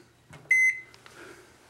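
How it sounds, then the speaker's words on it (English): A motel-room microwave oven left unreset gives a short electronic beep amid faint clicks and a quiet room background, with no talking. "And a microwave I'm not going to use, that somebody never reset."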